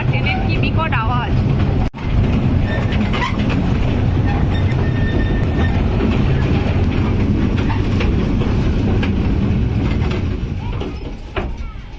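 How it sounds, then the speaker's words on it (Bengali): A small toy train running on its track in Shivaji Uddyan park in Barasat, a loud, continuous rumbling clatter with a brief dropout, heard under people talking. "আবার ট্রেনের কি বিকট আওয়াজ।"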